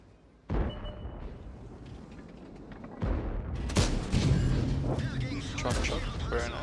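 Tank cannon shots in a Leopard 1 tank battle game: a sharp boom at the start, a second heavy blast about halfway through, then a dense rumbling stretch of firing and explosions, loud and close under ongoing talk.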